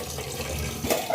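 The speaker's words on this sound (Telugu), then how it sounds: "ఇప్పుడు ఈ వేడి నీళ్ళన్నీ ఉంపేసుకొని దీంట్లో కొంచెం చల్లనీళ్ళు పోసుకొని పెట్టుకుందాం." Water poured over boiled eggs in a pot, a brief close splashing gush of running liquid, steady and full for about a second.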